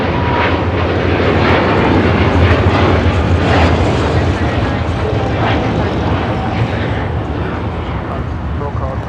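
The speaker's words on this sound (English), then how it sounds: "A321 about to cross over" An Air Canada Airbus A321 taxis at LAX while jet engine noise rumbles broadly and steadily, fairly loud and nearby, easing slightly toward the end.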